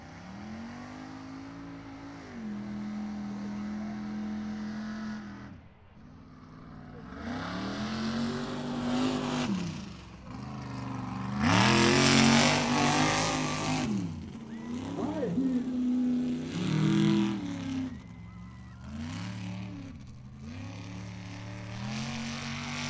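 Super truck engine revving and roaring through a mud bog race, loud surging throttle bursts that rise and fall, with an announcer's voice talking over the engine noise.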